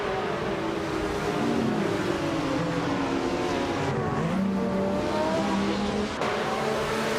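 Race cars in a racing video game launch at the start of a race at Apricot Hill, the leader a vintage 1985 WMP 83, with several engines revving and rising in pitch together, loud and continuous with shifting tones.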